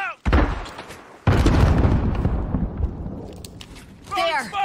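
A grenade goes off in Call of Duty: Modern Warfare Gunfight, a loud close boom followed by a second heavy blast and rumbling debris, with voices and gunfire chatter in the mix.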